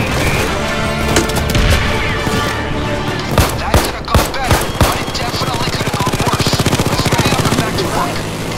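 Grenade launcher explosions in the video game Payday 2 boom in a rapid series of heavy blasts over dense gunfire and loud game action.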